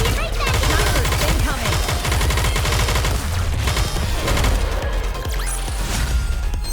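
Sustained rapid gunfire in the video game Goddess of Victory NIKKE, dense overlapping automatic bursts and impacts, loud and continuous throughout, with game voices and effects layered in.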